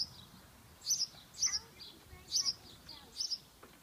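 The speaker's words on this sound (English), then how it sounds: "A little bird made a home. It's a house sparrow." A house sparrow at its nest hole gives four short, sharp chirps in a loose rhythm, close and clear over faint background noise.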